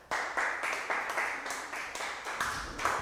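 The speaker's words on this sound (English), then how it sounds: "If you think I'm doing a great job, applaud." A studio audience claps and applauds at a coffee roasting competition event, steady applause for a few seconds without talk.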